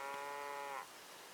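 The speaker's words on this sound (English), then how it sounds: "Boy, look at all the cows." Cattle grazing on lush green grass near Monte Vista give a single long, tonal moo lasting under a second. The call is moderately close and clear, and faint outdoor quiet follows it.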